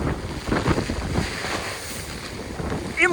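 Violent storm wind gusts across the Lazarevskoye seafront at night with the sea churning, a loud steady rush that swells at the start and surges again at the very end.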